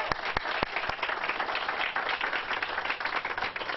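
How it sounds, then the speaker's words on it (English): Audience at a high school ribbon cutting on a new campus breaks into sustained, even applause, many hands clapping at once from close to mid distance, with no voices over it. "We can clap for that."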